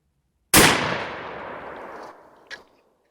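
A single loud, close .410 shotgun blast firing a slug outdoors, a sharp crack followed by a long decaying boom, then a brief metallic click about two seconds later.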